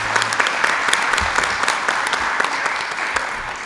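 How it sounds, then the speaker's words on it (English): An audience at a candidates forum applauds together, a dense steady patter of many hands clapping that fills the room and carries on evenly for several seconds with no voices on top. "I don't know if we all clap, but I think it's worthwhile."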